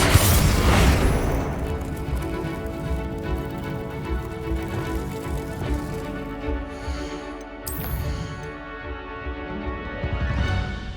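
A Confringo fire spell blasts in the Hogwarts Legacy video game, opening with a loud booming burst that decays into a lingering, rumbling magical wash and a few softer pops.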